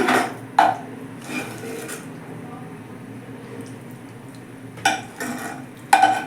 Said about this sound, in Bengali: এবার আমি গ্যাস অফ করে একটা পাত্রে ঢেলে নিচ্ছি